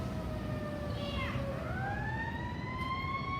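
A fire engine siren wails continuously as the truck arrives at a residential structure fire on West 2nd Street in Chester, Pennsylvania, its tone sweeping up and down and holding loud over steady street rumble.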